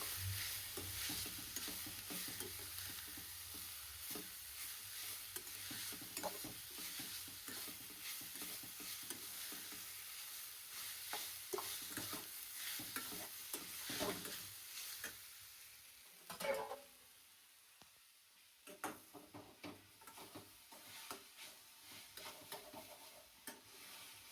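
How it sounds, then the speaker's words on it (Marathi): Grated, washed potato fries in an oiled pan with a steady sizzle and repeated scraping stirs that come close and fairly loud, with a brief quieter gap before the stirring resumes; no one speaks. "आता याच्यामध्ये मी हा बटाटा घालतीये. किसून घेतला, स्वच्छ धुवून घेतलाय. हा बटाटा घालतीये."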